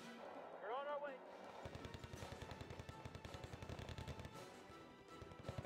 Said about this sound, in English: Yeah, those machine guns, man.